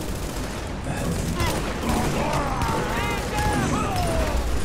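Assault rifle gunfire in the video game The Division sounds as a dense, continuous crackle of shots under a voice that talks throughout.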